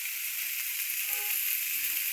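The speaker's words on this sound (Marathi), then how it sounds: "गवार भाजायची बघा त्याच्यात." Cluster beans (gavar) fry in hot oil with onion and tomato, giving a short, steady, close sizzle with no voices.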